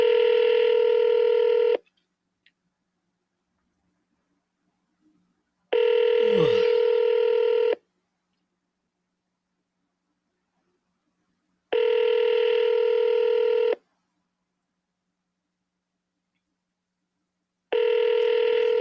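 Telephone keypad dialing tones during a live phone call to a spam-filtered number, sounding as four long steady multi-tone bursts spaced evenly apart with silence between, one briefly overlapped by a short sweeping noise.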